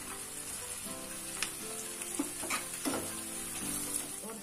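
Spices and kasuri methi fry in a pan for a bitter gourd and paneer curry, giving a steady close sizzle with a few soft clinks and scrapes of stirring throughout.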